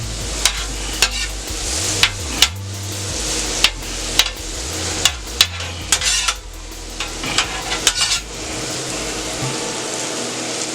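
Cheese steak meat and green peppers frying on a steel griddle, giving a steady sizzle with frequent sharp scraping clicks of a spatula and a low hum underneath.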